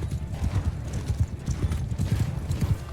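A horse gallops with rapid, loud clip-clop hoofbeats and neighs in the medieval combat game Mount and Blade II Bannerlord, a close, continuous rhythm filling the whole stretch.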